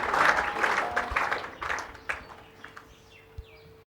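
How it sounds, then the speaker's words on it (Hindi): A small audience claps for Manav's birthday, the applause loud at first and then thinning into scattered, uneven claps that fade out, while a faint tonal hum and light chirping sounds linger. "तालियां बजाओ"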